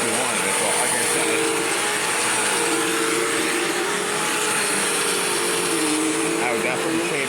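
A Bissell CleanView upright vacuum runs at a loud, steady roar with a whining motor tone, its base said to make a cracking noise, with faint rattling under the constant drone.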